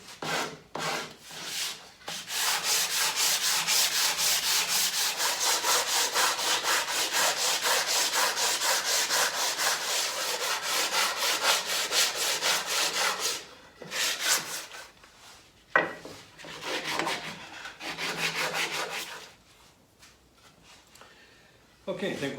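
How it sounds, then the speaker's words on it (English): Hand sanding of a wooden leg on a demilune table, a steady rasping rub that runs for about ten seconds, then breaks into short uneven strokes and pauses. "Just going to give this a sand first."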